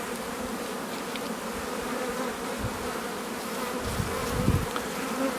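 Honeybees buzz steadily across a hive frame during queen rearing for an artificial swarm, a dense continuous hum close by with a few louder passes near the end, and no voices.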